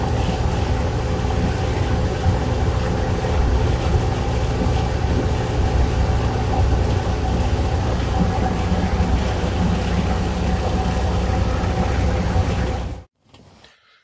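Preserved Tayside Ailsa bus from Dundee, fleet number 276, with a Mark III engine and its original Mark II rear axle, giving a loud, steady low-pitched engine drone and road roar that runs unbroken before cutting off abruptly near the end.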